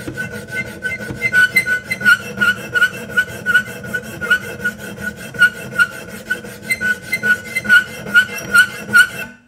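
A metal file rasps across the jaws of pliers being smoothed for jaw harp repair, in steady back-and-forth strokes of even rhythm, close and fairly loud, with no talk over it.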